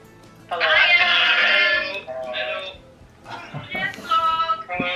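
A pet cat meows indoors during a casual home vlog, one loud drawn-out call followed by shorter, fainter mews, with people chatting nearby.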